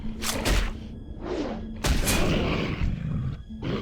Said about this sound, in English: now that I've got my gun out, I've got to use shoot gun